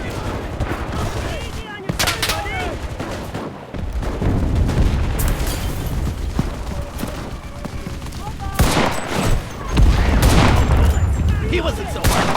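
Artillery shells land during an Enlisted battle, giving booming explosions mixed with steady rifle and machine-gun fire, loudest toward the end, with voices calling out over the fighting.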